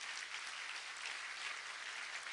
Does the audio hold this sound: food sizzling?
no